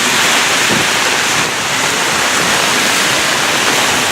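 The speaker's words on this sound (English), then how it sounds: "We're getting some winds out here right now. Some heavy rain coming down." Gusty wind and heavy rain in a severe thunderstorm in Brooklyn, New York City: a loud, steady broadband roar of rushing wind and pouring rain, with constant microphone buffeting and no break.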